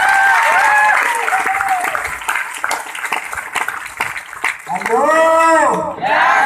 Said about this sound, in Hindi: उस अपलाइन के लिए जोरदार तालियां।